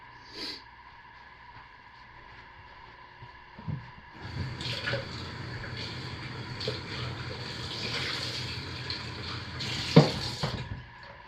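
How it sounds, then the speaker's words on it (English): Lye water is poured into oils for cold process soap, a soft liquid trickle and splash that begins partway through and continues steadily with faint clinks, no talking. "I'm going to start by carefully pouring the lye water into the oils"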